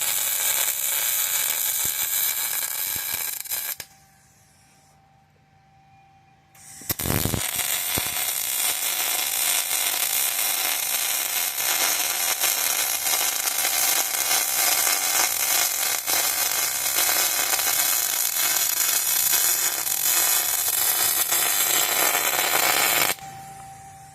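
Arc welding on cast steel, a steady loud crackling hiss running almost continuously, broken once by a brief pause and a thump before the arc resumes, with no talk.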